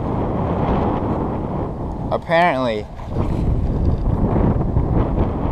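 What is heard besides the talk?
wind blowing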